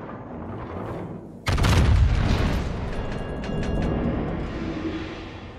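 Battleship St. Vincent in a naval video game lets off a salvo: one sudden, loud, deep boom with a sharp crack, then a long rumbling tail that slowly fades under a steady low background hum.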